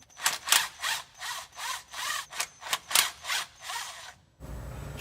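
A scraper rasps back and forth across the mating surface of a car's transmission pan, about a dozen close, even strokes in a steady rhythm, followed by a low hum.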